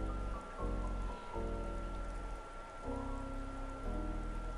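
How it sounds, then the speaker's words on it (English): Rain falling in a video game, a steady hiss of drops on surfaces under a low droning in-game music tone, no talk. "Now I'm not in the rain."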